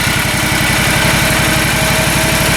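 Toro Z-Master zero turn mower engine running at idle, a loud, close, steady low throbbing rumble with fast regular pulses and no voices.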